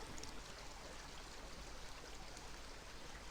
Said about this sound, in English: Literally just a stream of water running right through it.